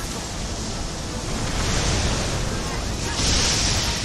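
Wind effect in the fighting game Dissidia Final Fantasy NT, a broad, continuous rushing hiss like a gust or surf that holds steady and swells slightly louder near the end.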